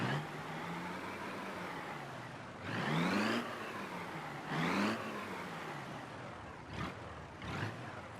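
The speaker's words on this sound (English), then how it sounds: "What engine do we have in here? Is this the 4-cylinder? I think it is. Yeah, it doesn't sound very good." Four-cylinder car engine in BeamNG, a steady droning hum with two loud revving surges and a couple of shorter blips toward the end.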